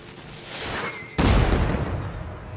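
A sudden loud burst of booming crackles erupts after a quieter stretch, sustained and rumbling like fireworks going off nearby in the game Deathloop.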